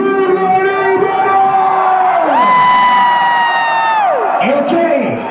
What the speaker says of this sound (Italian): Astro-Mania, voglio sentire l'urlo libero!